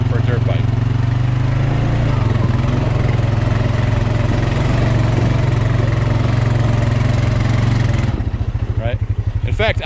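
A dirt bike engine runs steadily at a low, even drone, loud and close, then shifts to a rougher, pulsing rhythm near the end.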